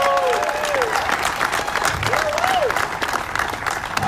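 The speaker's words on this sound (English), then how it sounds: "keep the applause going for the president and CEO of the Aurora Civic Center Authority, Mr. Tim Rader." An audience at a ribbon cutting and grand opening of the John C. Dunham Aurora Arts Center claps steadily for Tim Rader, a dense, even wash of applause with faint voices and a few whoops mixed in.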